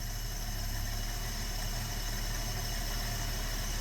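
A 1973 AMC Gremlin engine, long stored in a barn, idles steadily, a constant low rumble and hum with no voices, holding even throughout.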